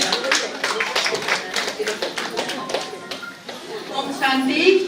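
Audience clapping at a Shivshakti spiritual gathering in Biratnagar, Nepal: a steady patter of many hands across the whole span, with voices talking over it.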